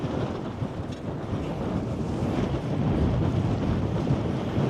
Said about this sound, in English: it's just headwind all the time because of riding southwest